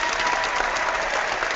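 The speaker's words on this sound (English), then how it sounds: "So let me clap." A burst of rapid hand clapping, steady and fairly close, with no talking over it.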